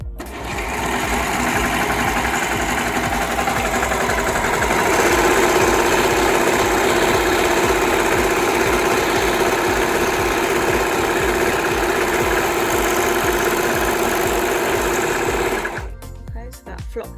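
A Brother 2104D overlocker sewing a rolled hem runs at a steady, fast mechanical whir with a constant buzzing stitch rhythm, loud and close, for about fifteen seconds before stopping abruptly.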